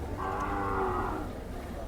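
A Khillar bull lows at a Sangola cattle market in a long, loud, droning moo that swells and then fades, with a noisy open-air background.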